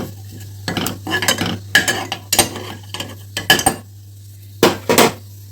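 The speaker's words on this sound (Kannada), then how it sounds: "ಸ್ವಲ್ಪ ಫ್ರೈ ಮಾಡ್ಕೊಳ್ಳು." Cinnamon, pepper and cloves fried in a pan, stirred with a metal spoon that scrapes and clinks against the pan in close, loud bursts over a low sizzle, with short pauses between strokes.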